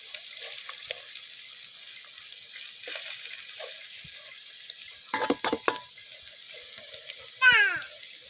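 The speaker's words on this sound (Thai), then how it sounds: "ทอดไข่ของเราแผ่นใหญ่ๆเลยพี่น้อง" Egg frying in a pan at an evening cookout on a farm, a faint, steady sizzle throughout, broken midway by a few sharp scraping clatters and a brief meow-like squeal near the end.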